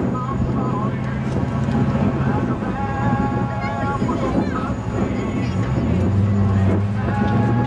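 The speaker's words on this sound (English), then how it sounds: "a scat V4, which is essentially a V8 engine that they took the center 2 cylinders out" A rock crawler's Scat V4, a V8 with the center two cylinders removed, runs with a raspy, uneven drone at a Tucson rock-crawling competition, joined by wind noise and a voice talking throughout.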